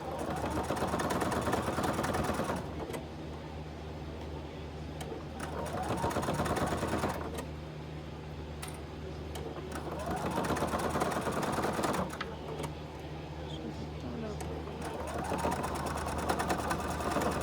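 A sewing machine stitches a small fabric monster pouch, running in steady mechanical bursts of whirring needle action with short pauses between runs, close and moderately loud.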